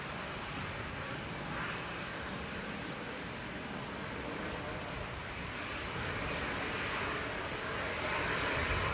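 A Virgin airliner roars steadily at Manchester Airport, its broad jet engine noise continuous and fairly distant, swelling slightly toward the end with no voices.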